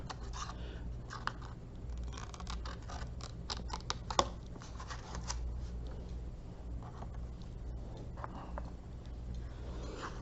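Scissors trimming small paper tails on a paper lid for a two-tiered box: soft, steady snipping and scratchy paper sounds, quiet and close, with a few sharper clicks.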